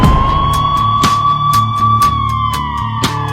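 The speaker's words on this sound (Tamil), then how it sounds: "ஆம்புலன்ஸ் போட்டு ஆம்புலன்ஸ் வழி விட்டுருங்கப்பா" An emergency siren holds a steady tone with faint harmonics above it, cutting through the din of a crowd at a political rally, while sharp bangs and knocks land roughly every half second.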